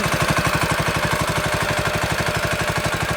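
A newly acquired tractor engine runs close by with a fast, regular chugging beat, a steady low-pitched pulse holding throughout.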